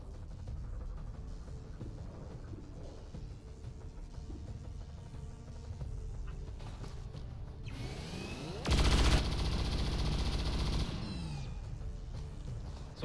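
Gunfire in the modded PC game XCOM 2: War of the Chosen: a loud, dense burst of shots lasting about two seconds stands out from a steady background of game ambience.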